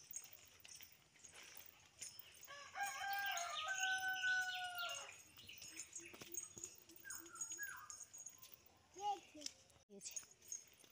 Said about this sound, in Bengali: কে ডাকছে গো? মুরগি ডাকছে